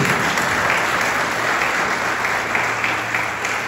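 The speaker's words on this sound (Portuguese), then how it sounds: "Quem pode aplaudir a Jesus por isso" Dense applause from a church congregation fills the short stretch, loud and continuous, with a faint steady hum running underneath.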